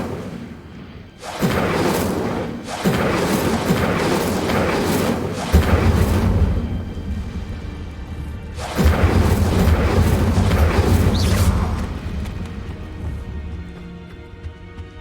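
Incendio fire spell cast in the Hogwarts Legacy video game, two heavy booming blasts with rushing whooshes and rumbling tails, each lasting several seconds, loud and close with no talking.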